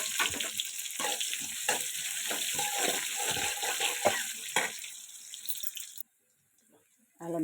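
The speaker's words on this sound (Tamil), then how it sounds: "இப்போ எண்ணெய் ஊற்றியாச்சு, எண்ணெய் காஞ்சிருக்கு. இப்போ கடுகை போட்டுக்கலாம்." Mustard seeds crackle and sizzle in hot oil in a pan, a continuous bright frying hiss that stops abruptly near the end, followed by silence.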